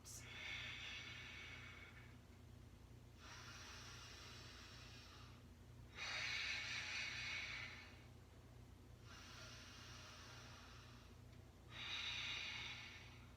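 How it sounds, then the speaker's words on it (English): Slow, deep breaths during a yoga practice come in about five long, airy cycles of inhaling and exhaling, close and soft, with quiet pauses between them. "Let's take one more breath. Inhale and exhale."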